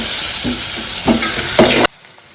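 Hot oil sizzling in a pan while cooking a crab recipe, a loud close hiss with a few stirring scrapes, then cut off abruptly into quiet.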